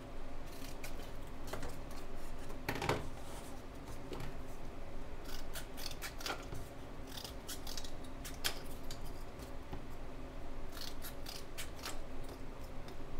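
Scissors cut craft material for home décor in a series of quiet, close snips at an uneven pace, with no talking.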